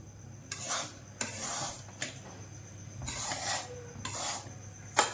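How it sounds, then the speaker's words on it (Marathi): Semolina (rava) being roasted and stirred in a pan with a spoon, giving repeated scraping, rasping strokes roughly once a second, close and fairly quiet, with no talking. "अजून थोडंसं अजून 5 मिनिटं भाजूया रव्याला"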